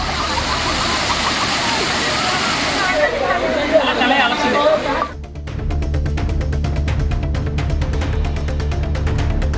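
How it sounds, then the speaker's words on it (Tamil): Kumbakkarai waterfall, with crowds of tourists bathing, gives a loud, continuous roar of falling water mixed with crowd babble, then fades under a steady musical bed in the second half. "கும்பக்கரை அருவியில் குளிக்க திரளான சுற்றுலா பயணிகள் குவிந்தனர்"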